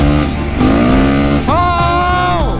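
A Yamaha YZ450 dirt bike engine revs hard and climbs through the gears, its buzzing pitch rising, dropping at each shift and rising again, loud and close throughout.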